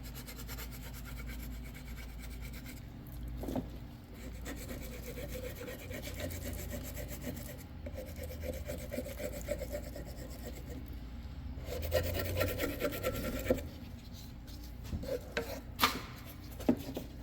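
A plastic scraper rasps and scratches repeatedly across an old wooden rifle stock, a Pattern 14, taking off years of old finish and gunk in steady close-up strokes with brief pauses.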